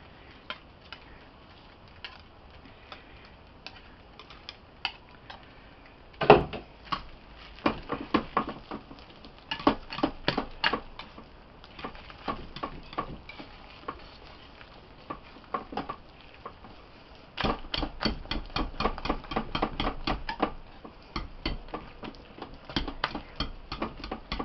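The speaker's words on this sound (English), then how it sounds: "a big whisk is really good" Hot process tea tree soap is worked with a big whisk, giving quiet, irregular clicks and patters in quick bursts that come and go, close by and faint.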